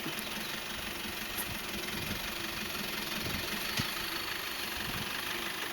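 A two-wheel-drive pickup truck engine climbing a steep slope, a steady droning hum with a low rumble and faint knocking, constant and close with no talk.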